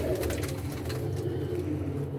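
Pigeons cooing steadily as they are released from their coop, a continuous low warbling murmur from several birds close by with no voices over it.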